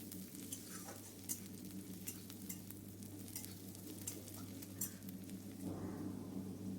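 Chopped onion, green chili and garlic sizzle in a pan while being stirred, a soft steady frying hiss broken by scrapes and light clinks of the spatula, fairly quiet and with no speech.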